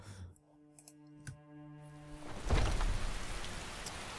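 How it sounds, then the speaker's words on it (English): Rain in the video game Skyrim starts with a dense, steady hiss that swells in after a quieter stretch of tonal game music and clicks. "Bloody rain."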